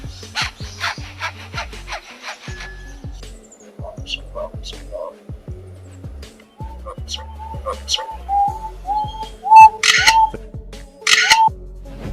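Bird imitating a handsaw cutting wood: repeated rhythmic rasping strokes early on, then scattered clicks, whistles and sharp mechanical-sounding notes, fairly close and loud.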